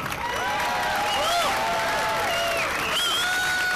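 A crowd applauding and cheering at a Boston Tea Party rally on Boston Common in April 2013, a steady loud wash of clapping with shouts and whoops rising over it throughout.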